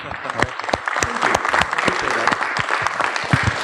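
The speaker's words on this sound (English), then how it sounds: "can we get a round of applause for Marco?" An audience at a governance talk breaks into steady applause, a dense close clatter of many hands clapping continuously for a few seconds.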